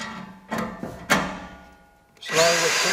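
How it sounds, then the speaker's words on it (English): A power drill slowly drives a tek screw into corten steel while a raised garden bed is assembled: short whirring bursts, then a steadier, louder grinding spin near the microphone. "Now the thing is to put some pressure on and drill slowly."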